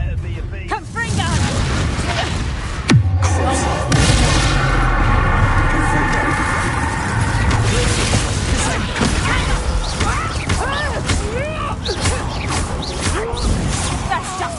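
Confringo fire spell explosion from the video game Hogwarts Legacy, a sharp booming blast followed by crashing, mechanical game effects and music, with someone talking over the loud, dense mix.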